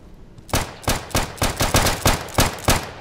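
Eight loud, evenly spaced gunshots from the video game Insurgency ring out in a steady rhythm, close and punchy, with no talking over them.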